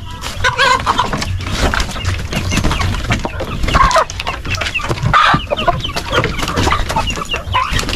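A flock of chickens at feeding time: dense, loud, overlapping clucking and squawking that fills the whole stretch, heard close up with no talk.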